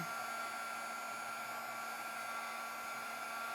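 A heat gun warming up for heat embossing on a holiday card gives a steady, even blowing whir with a constant hum and no pauses from start to finish.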